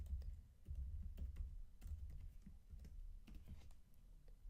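Typing on a computer keyboard to enter a basic legal research search query, with a steady run of close, soft key clicks and taps in a quiet room, with no voices.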